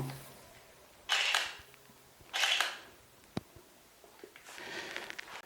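A Nikon camera fitted with a repaired Nikkor DX AF-S 18-55 G VR lens gives two crisp shutter clicks a second apart, then a sharp tick and a softer whirring mechanical burst, all close in a quiet room.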